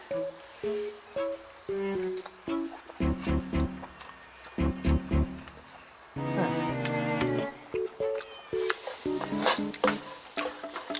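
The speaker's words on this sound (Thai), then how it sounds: "แต่ตอนนี้ผมขออนุญาตผัดก่อน" Mama instant noodles stir-fried with holy basil in a pan, with repeated scraping and stirring strokes and a steady sizzle. Tonal sounds run alongside, and the cooking stays fairly close and loud throughout.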